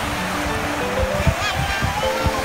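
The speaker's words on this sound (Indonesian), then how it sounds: "ombak agak besar" Steady roar of fairly big surf breaking on a beach at Pantai Perupok, Bachok, Malaysia, at sunset, wind-blown and continuous, with voices talking over it.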